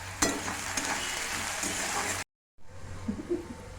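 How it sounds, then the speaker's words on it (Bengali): Potatoes frying with salt in a pan while hakka noodles are prepared give a steady close sizzle with stirring scrapes, broken by a brief silent gap before the frying resumes more quietly. "একটু নুন দিয়ে ভেজে দিলাম।"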